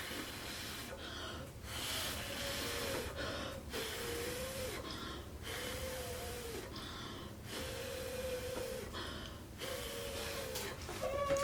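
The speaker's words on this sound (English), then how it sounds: "now we're gonna use our breath and we're gonna blow on it to kind of swirl it around." Breath is blown in repeated bursts onto wet paint to swirl it, in about six quiet, close puffs and hisses separated by short pauses.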